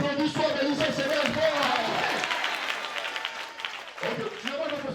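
A church congregation applauds during a Sunday testimony service, dense clapping mixed with voices and crowd babble, thinning briefly before surging again.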